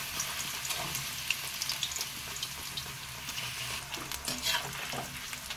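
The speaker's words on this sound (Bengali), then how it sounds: "দেখুন এইভাবে আস্তে আস্তে তেলেতে দিয়ে দিচ্ছি" Raw banana slices sizzling and crackling as they fry in hot oil, a steady close bubbling hiss with small pops throughout, no talking.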